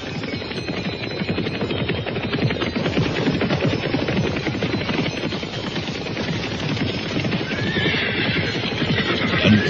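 Soldiers' horses whinny and neigh while hooves clip-clop in a dense, steady rhythm, the clatter continuous and fairly loud throughout with a low hum beneath.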